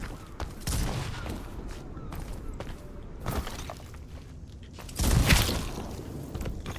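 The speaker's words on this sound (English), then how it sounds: "now there is this guy on the top shooting at me" Enemy gunfire aimed at the player in the Enotria video game, sounding as several sharp, loud bursts of shots, with a heavy volley near the end over a steady game ambience.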